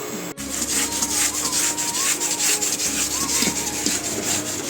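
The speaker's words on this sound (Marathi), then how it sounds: "मंदाचे वर तीळ भाजायचे आहेत म्हणजे मस्त खरपूस असे भाजतात" Sesame seeds dry-roasting in a pan on low heat until crisp and pinkish-golden, a steady close scraping and rustling texture running continuously throughout, alone without talk.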